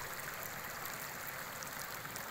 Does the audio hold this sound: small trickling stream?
yes